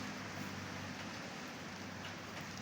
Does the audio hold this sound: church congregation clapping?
no